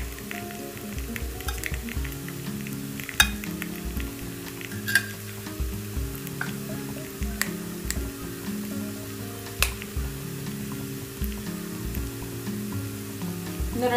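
Ragi kambu appam, a Chettinadu sweet appam, fries in a paniyaram pan with just a little oil, giving a soft, steady sizzle. Sharp clicks and ticks break through now and then, and the sound is fairly quiet, with no speech.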